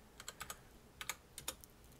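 Soft, quick keystrokes on a computer keyboard as a password is entered, a few faint taps in small clusters against quiet room hiss.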